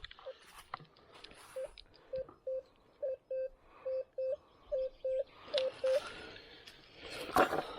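A metal detector sounds a string of short, evenly spaced electronic beeps while searching ground strewn with stones and scrap, with a brief outdoor rustle at the end.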